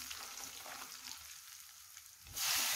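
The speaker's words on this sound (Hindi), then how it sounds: "अब हम इसमें एक चम्मच लाल मिर्च पाउडर डाल देंगे और इसे तेल में अच्छे से भून लेंगे" Red chili powder frying in hot oil for Gujarati undhiyu, a steady close sizzle that swells into a louder, brighter hiss near the end, with no talking.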